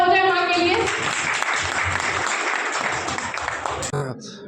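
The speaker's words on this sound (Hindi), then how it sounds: "तो एक जोरदार तालियां हो जाए माँ के लिए" A school audience gives a round of applause for mothers, the clapping steady and fairly loud under a spoken voice, then cutting off sharply near the end.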